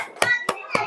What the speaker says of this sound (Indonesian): Tepuk tangan untuk kelompok terakhir.